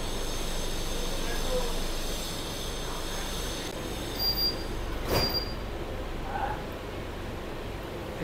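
Kolkata Metro train pulling out of the Airport (Jai Hind) station, a steady rumbling roar with a faint high wheel squeal and brief hisses, heard from inside a carriage.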